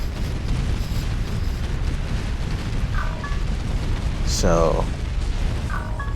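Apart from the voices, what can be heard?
mines exploding under force fire in the video game Art of War 3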